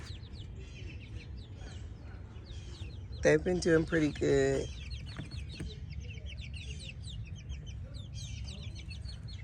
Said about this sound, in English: We got the chickies, that mean-tailed rooster.